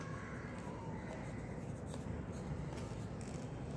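A pen scratches steadily across paper while a maths problem is worked out, with faint rustling under a constant low background hum.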